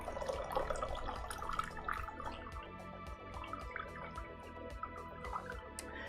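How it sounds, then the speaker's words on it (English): Water runs and drips as it is poured, faint and trickling against a low, steady background hum, with no speech. "I am out of water, and I gotta go pour more."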